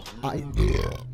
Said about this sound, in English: Wow, that was a burp.